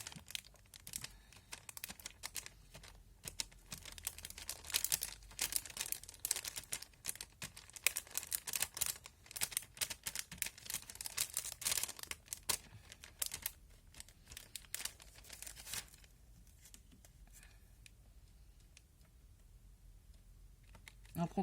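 A brush dabs water onto watercolor paper, making soft, rapid tapping and faint crinkling close by for about fifteen seconds. The tapping then fades to quieter, sparser touches.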